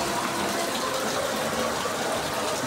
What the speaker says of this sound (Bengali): ঝুম বৃষ্টি, সকাল সকালেই ঝুম বৃষ্টি হচ্ছে।